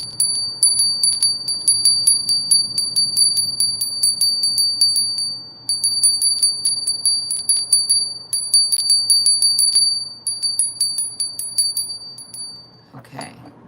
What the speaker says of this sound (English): I'm going to ring a bell to clear the energy